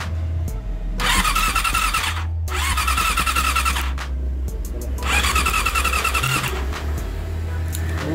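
Honda CB-1 motorcycle engine cranks and starts, then runs with a steady idle and occasional revs, loud and close, with a few short breaks between attempts.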